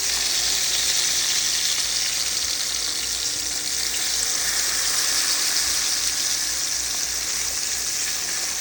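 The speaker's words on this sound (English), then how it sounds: "So now we've got our tenderloin frying. It is frying in regular vegetable oil." Continuous loud sizzling of floured venison tenderloin frying in hot vegetable oil, a dense crackling hiss that holds steady throughout with no voices.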